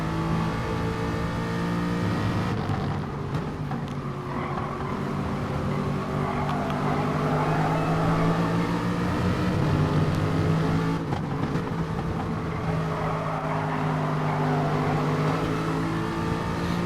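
Race cars lapping the Red Bull Ring in a racing video game, a continuous layered engine drone with rising and falling revs as several cars run close together, steady and moderately loud throughout.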